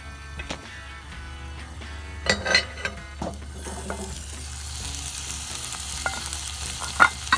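Breakfast cooks in a Dutch oven with a close, steady sizzle and frying crackle, scattered knocks and scrapes, and hiss that thickens toward the end, without speech.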